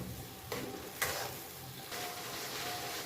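Mustard and poppy-seed spice paste for a pomfret fish curry fries quietly in a pan, giving a faint, soft sizzle in uneven bursts with a few light stirring scrapes and no talk.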